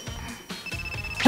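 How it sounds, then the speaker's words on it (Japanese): A mobile phone rings with an incoming call in a café, its electronic ringtone chiming in short repeated bursts at moderate volume, with no speech. "なんだ、着信か、びっくりした。"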